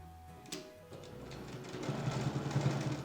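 A sewing machine stitches a trapezoid-shaped toiletry bag, its needle running in a steady, close rattle that grows a little louder toward the end after a brief quieter start.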